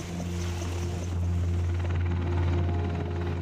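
Apache attack helicopter running steadily with a constant low rotor and engine drone, a dense, loud, unbroken roar throughout with a faint hint of wind and no voices.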